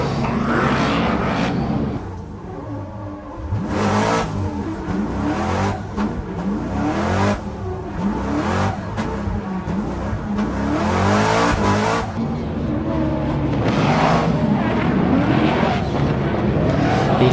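A BMW E30 fitted with an American LS3 V8 roars along a race track, its loud engine revving up and down continuously with hard accelerations and a brief tire squeal, heard close and dominant.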